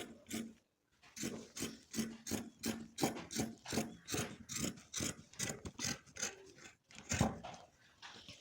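Scissors snip through old nighty fabric while the armhole section is trimmed away, giving a rapid, regular series of crisp close cuts with a couple of short pauses.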